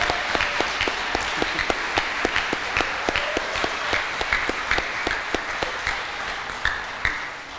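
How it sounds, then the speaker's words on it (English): Audience applause at a school awards address, a steady round of clapping with distinct nearby hand claps standing out in a regular rhythm, fading slightly toward the end. "a final round of applause"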